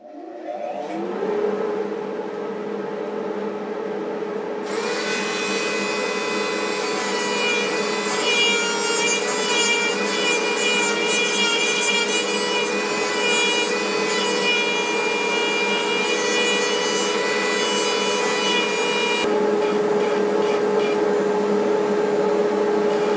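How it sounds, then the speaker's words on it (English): A power carving tool works into the wood of a lathe-turned footed box, a loud high whine that cuts in after a softer motor hum and grinds steadily with fluttering bursts, then drops back to the lower hum. "time to do a little power carving"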